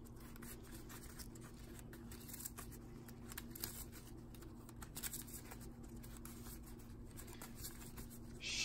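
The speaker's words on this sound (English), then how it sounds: "Shuffle this up a little bit." Quiet, close shuffling of a deck of Yu-Gi-Oh trading cards, soft rapid papery riffles and scratchy patter spread across the clip under a faint steady hum.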